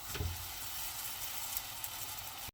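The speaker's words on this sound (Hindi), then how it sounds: "हमारा तवा ऑलरेडी गर्म है तो इसके ऊपर ऐसे डाल देते हैं" Aloo paratha laid on a hot tawa greased with ghee, a continuous close sizzle that holds steady throughout and cuts off abruptly at the end.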